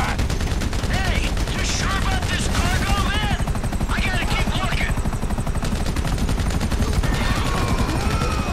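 Rapid bursts of automatic gunfire in GTA V rattle on over a constant helicopter-like drone, and several sharp shot transients stand out in the dense firefight.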